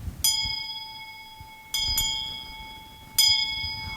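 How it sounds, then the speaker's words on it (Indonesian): A Christmas bell rings out three times: one clear strike, then two close together, and a last strike later. Each ring is bright and sustained with a long decaying hum, and there is no talk. "itu suara lonceng Natal yang menandakan kegembiraan"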